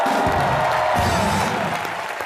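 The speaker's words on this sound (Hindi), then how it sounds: "जोरदार तालियां कॉमेडी नाइट्स के लिए।" Studio audience applauding on the comedy show Comedy Nights, a dense, steady wash of clapping that holds loud for about two seconds before easing slightly toward the end.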